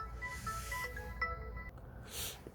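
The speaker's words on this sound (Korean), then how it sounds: "제가 촬영만 하면은 영락없이 전화가 오죠" A mobile phone ringtone sounds at close range, short bright tonal chirps over a quiet room, ending in a brief hiss.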